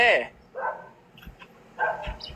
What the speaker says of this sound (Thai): เอ๊ยอย่าเห่าซิ